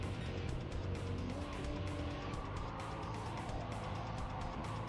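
A small Peugeot hatchback driving in a video game, its engine droning steadily and loudly throughout with faint pulsing, no talk over it.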